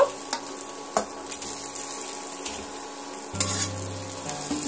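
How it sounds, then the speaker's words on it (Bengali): Fried eggs with poppy seed masala are stirred in oil, giving a close, continuous sizzle with spatula scrapes and a brief clank of the pan. "এইভাবে কিছুক্ষণ আমি ডিমের সঙ্গে এইভাবে কষিয়ে নেব সমস্ত মশলা"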